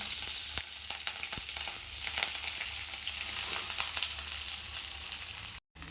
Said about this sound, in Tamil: சேர்த்துட்டு துருவி வச்ச மாங்காய் இதோடு சேர்த்துக்கலாம்.